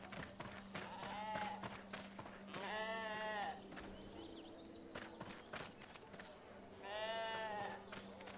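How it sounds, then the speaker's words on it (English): Sheep bleating in the RuneScape video game, two long wavering bleats a few seconds apart over a steady low game hum, with soft clip-clop-like footsteps in between. "The sheep manages to get away from me."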